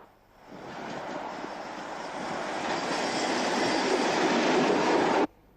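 A train with a Class 31 diesel locomotive rushes past on rails, a continuous broadband roar with rhythmic wheel clatter that swells in and cuts off abruptly after about five seconds.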